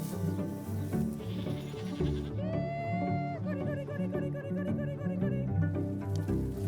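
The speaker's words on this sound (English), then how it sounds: "Hey, sheep." A flock of sheep bleats repeatedly in a summer pasture within a silvopasture system of woody plants and trees. The calls are loud, close and overlapping, a steady wavering chorus with no talking.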